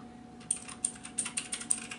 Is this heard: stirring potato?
no